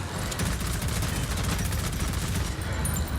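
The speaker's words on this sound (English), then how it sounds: "What would be effective at destroying shields? Maybe a minigun?" A minigun in the video game Prodeus fires nonstop, a dense, chunky, loud roar of rapid shots running the whole time with only a brief dip near the end.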